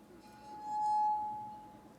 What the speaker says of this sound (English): And if you do that at the right speed and pressure, the forces build up enough to vibrate the glass.